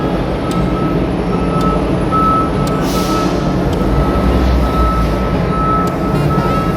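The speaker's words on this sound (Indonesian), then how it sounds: "ini kita nunggu truk-truk besarnya keluar dulu" Big trucks roll off the lower deck of a car ferry sailing from Surabaya to Balikpapan. Their engines rumble steadily and loudly inside the enclosed hold, with a high steady beep and occasional sharp clanks.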